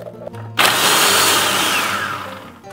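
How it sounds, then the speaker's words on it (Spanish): A blender grinds twelve Oreo cookies into crumbs, a loud, steady motorized roar that starts abruptly and runs for about two seconds before easing down. "vamos a triturar. Para la masa, triturar las galletas Oreo"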